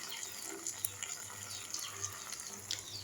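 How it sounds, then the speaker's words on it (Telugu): Water runs steadily from a tap or is poured into a cooking pot for boiling lentils, a continuous splashing stream with no voices. "వీటిలో కొంచెం వాటర్ వేయాలి ఉడకడానికి."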